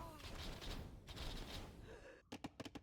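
Cannon fire in an Age of Empires match: a rapid cluster of sharp booming shots bursts out near the end, after a stretch of dense battle noise with a commentator talking.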